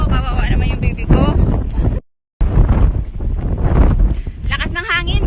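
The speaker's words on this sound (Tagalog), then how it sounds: "Grabe, ang lakas ng hangin dito" Strong gusts of wind buffet the microphone outdoors, making a loud, rumbling roar. The sound cuts out briefly partway through, and voices speak over the wind at moments.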